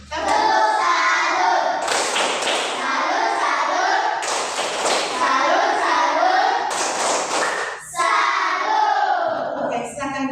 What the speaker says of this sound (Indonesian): Kita tepuk salut untuk Wilman.